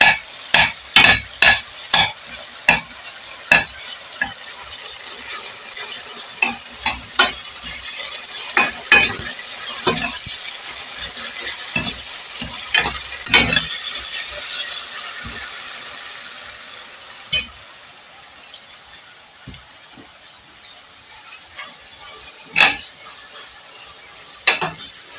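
Tomatoes simmer in a pot for a green peas stew while a spoon scrapes and knocks against the sides in quick bursts of clacks over a soft, steady sizzle, with no voices.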